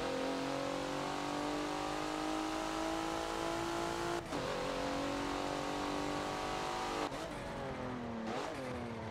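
Several Porsche 911 race cars in the Forza racing game at Yas Marina's South track, their engines droning loudly together with rising and falling revs and occasional downshifts, heard alone.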